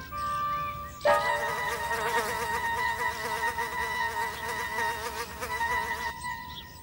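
Insects buzzing around daisy flowers, heard as a steady close whine of wingbeats that starts abruptly, holds for about five seconds and then drops away, with no talk over it.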